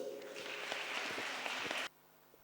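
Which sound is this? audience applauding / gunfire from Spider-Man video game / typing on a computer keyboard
audience applauding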